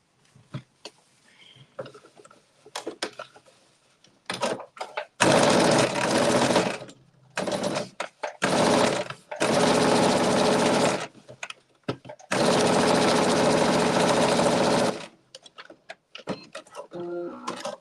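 Sewing machine stitching the side seam of a garment from Simplicity pattern S9920, a loud steady whir in several bursts of a few seconds each, separated by short pauses.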